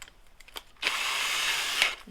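A power drill pre-drills a thin piece of fir, whirring loudly and steadily for over a second after a few quiet taps and clunks, heard close up with no talk.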